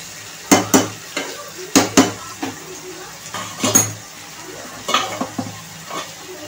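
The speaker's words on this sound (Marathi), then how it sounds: "आता आपण ही भेंडी मिक्स करूया।" Okra frying in a pan for a dry bhindi dish, stirred with a utensil that clinks and scrapes against the metal in several distinct bursts over a quiet low sizzle, close up with no talking.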